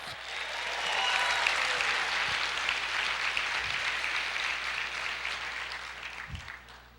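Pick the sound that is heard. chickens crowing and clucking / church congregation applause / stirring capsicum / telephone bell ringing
church congregation applause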